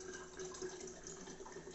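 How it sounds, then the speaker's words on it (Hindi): Household water runs from a tap as containers are filled, a faint, continuous gushing flow with no voices. "अभी लाइट आई है तो पानी भर रहे हैं"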